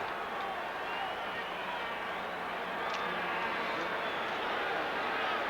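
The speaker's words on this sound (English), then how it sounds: "It's a noisy crowd now." Noisy crowd at a 1982 NFL game between the Rams and 49ers, a steady broad roar filling the stadium under the commentators' talk.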